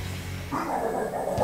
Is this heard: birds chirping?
no